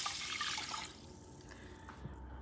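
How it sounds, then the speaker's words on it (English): Water pours into a pot of long grain rice, a soft hissing splash that fades after the first second into a quiet trickle and faint drips. "I'm going to add about a cup and 1/4 of water."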